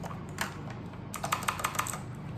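Keys clack on a Redgear Shadow Blade mechanical gaming keyboard, a few scattered presses followed by a quick run of five or six crisp close taps against a low steady room hum.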